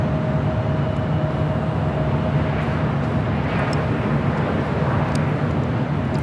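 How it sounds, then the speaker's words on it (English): Airbus A330 taxiing at LAX, a steady low engine drone with a faint whine, heard at a distance with occasional small clicks and no talking. "that A330 heading to the south side"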